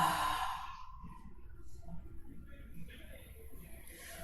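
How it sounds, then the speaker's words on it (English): Slow, deep exhale during a gentle yin yang yoga session, a long breathy rush of air that fades over a few seconds, close and soft with quiet room tone after. "Fill the lungs and exhale."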